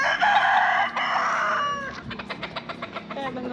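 Chickens cluck in the back area of a Cuban bodega while a rooster lets out a loud, drawn-out crow up close, followed by a run of quick, rhythmic clucks.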